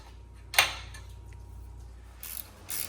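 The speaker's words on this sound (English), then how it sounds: "working the last bolt here for my fuel rails" A ratchet tightens the last bolt on the fuel rails of an LS V8 swapped into a Chevrolet S-10 pickup. A short burst of close ratchet clicking comes first, followed by a couple of fainter clicking bursts later.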